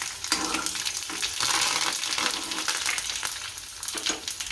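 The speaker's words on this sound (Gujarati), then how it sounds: "તલ નાખી દઈશું હવે લીમડો નાખી દઈશું" Sesame seeds and curry leaves crackle and sizzle steadily in hot tempering oil for dhokla, a dense, continuous frying hiss with brief popping bursts, close and fairly loud throughout with no talking.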